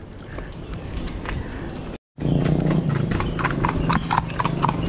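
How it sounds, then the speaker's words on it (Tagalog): Horse hooves clip-clop in a steady, close rhythm, cutting out briefly for a moment before resuming louder over a low background rumble. "Kabayo."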